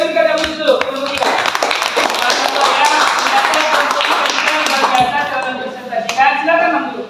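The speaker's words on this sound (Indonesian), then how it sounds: "Kita berikan aplaus dulu, kelompok 3" A classroom gives group 3 a round of applause, with dense continuous clapping from many hands and voices mixed in throughout, fading toward the end.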